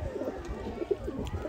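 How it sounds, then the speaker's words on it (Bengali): Madrasi pigeons coo softly at close range, with low rolling calls repeating over a faint background. "খুব ভালো কোয়ালিটির পায়রা বন্ধুরা"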